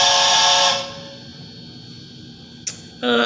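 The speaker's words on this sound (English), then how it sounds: "And F3 is a stop whistle." A Bachmann K4s streamlined #2665 HO-scale model steam locomotive sounds its stop whistle, a loud bright steady tone that fades out, then a quiet gap, a sharp steam hiss and the whistle starting again.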